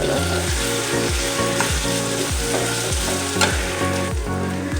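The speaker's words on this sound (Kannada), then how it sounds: "ಈ ಥರ ತರಕಾರಿ ಎಲ್ಲ ಚೆನ್ನಾಗಿ ಫ್ರೈ ಆಗಿದೆ" Vegetables frying with Schezwan chutney for Schezwan rice give a loud, steady sizzle, with repeated stirring scrapes of the spatula in a regular rhythm close up.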